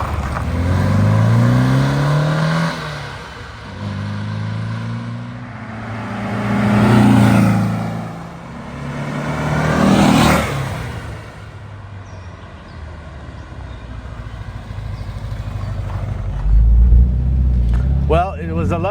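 A 1964 Porsche 356C Cabriolet passes by several times on a road, its engine swelling loud and fading with each flyby, with people talking over parts of it and a closer rumble near the end.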